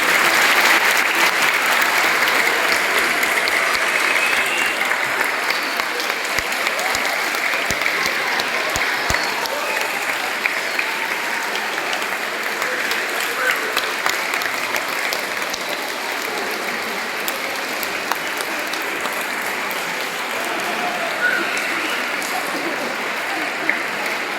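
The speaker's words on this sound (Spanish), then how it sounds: "yo os invito a que le deis un aplauso a las hermanas, a los profesores." Sustained applause from a gathered audience for sisters and teachers, many hands clapping in a dense, even wash that continues for over twenty seconds with occasional louder claps standing out and scattered voices beneath.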